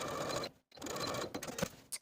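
A sewing machine stitches back and forth over the overlapped ends of elastic, a close, steady mechanical whirring broken by a short pause and brief stops as the stitching direction reverses.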